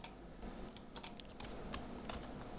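Computer keyboard typing while coding in Android Studio, a faint run of quick, uneven key clicks with a few sharper taps, close and steady, no talking.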